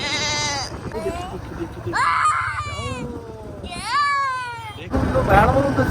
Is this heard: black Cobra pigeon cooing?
no